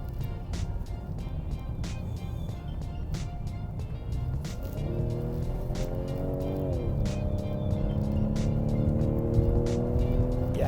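A 2019 Ford Edge ST with a 2.7-litre engine accelerates hard on a test drive, the engine note rising steadily in pitch through a gear change under constant cabin road noise, with scattered clicks and no talk.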